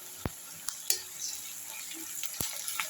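Ginger garlic paste fries with curry leaves in a pan for prawn thokku, giving a soft, steady sizzle broken by a few sharp clinks of a spoon against the vessel.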